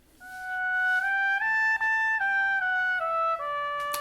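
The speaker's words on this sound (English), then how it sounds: "That was the sound of a trumpet, a high pitched brass instrument that you blow into" A trumpet, a high-pitched brass instrument, plays a short sustained melody of clear held notes stepping up and then down, loud and close with no talking.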